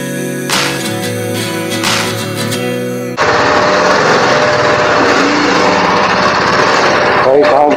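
A motorcycle engine drones loudly and steadily through the narrow alleys of Varanasi, following a stretch of music and bustle, with the rider close by.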